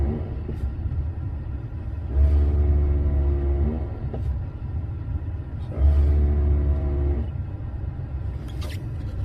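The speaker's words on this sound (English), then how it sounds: "it's shuttling all the valves in the ABS unit, and it'll actually push air up in through the master cylinder" A vehicle's ABS unit cycles its valves during a brake bleed test, giving two buzzing, rumbling pulses of about a second and a half each, separated by a low steady idle background.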